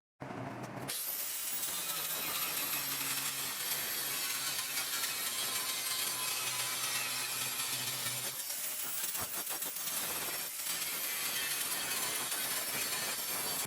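Continuous, fairly faint sawing through wood panels for seating and storage in the front of a boat, a steady rasping cut running for about eight seconds, then briefer bursts of cutting toward the end.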